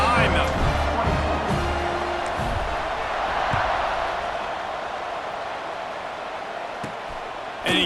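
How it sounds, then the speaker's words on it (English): A stadium crowd in the College Football 26 video game keeps up a steady, broad roar beneath continuous play-by-play commentary. "this crowd now ready to get behind them"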